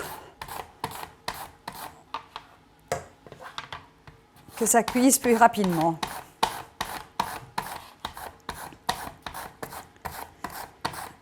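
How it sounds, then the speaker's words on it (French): A knife cuts a courgette into small julienne sticks on a board, giving quick regular chopping taps with a rougher scraping burst midway, while someone talks over the cutting. "j'aime bien faire des petites juliennes de légumes en bâtonnets, en petits cubes, en petites lamelles comme ici"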